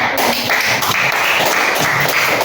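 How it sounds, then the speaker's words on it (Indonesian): Classroom applause for a student group, a steady dense patter of many hands clapping throughout at close range, with no talk over it. "Sekali lagi berikan tepuk tangan."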